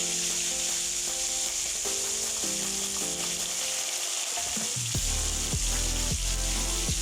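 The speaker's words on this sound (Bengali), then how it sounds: "এবার কড়াইতে তেল গরম করে মাছগুলো এক এক করে ভেজে নেব" Steady loud sizzling of catla fish pieces frying one by one in hot oil in a wok, continuous throughout with no voices, broken by occasional clinks and scrapes of a utensil in the pan.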